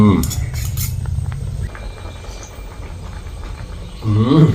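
A spoon stirs pineapple sour curry in a pot, giving light scraping and clinking through the middle stretch, with a voice speaking at the start and again at the end.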